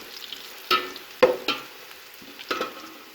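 Sparse scraping and clinking as whole cloves, black peppercorns and star anise are stirred in a pan for chicken pulao, a handful of distinct strokes against a faint sizzle.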